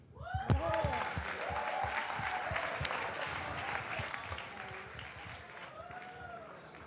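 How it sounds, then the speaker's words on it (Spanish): A meetup audience in Madrid bursts into applause, a dense wash of clapping that swells quickly and holds steady for several seconds, with a few scattered voices and whoops rising over it. "el aplauso más grande de toda la historia de Dataviers ha sido para la cerveza"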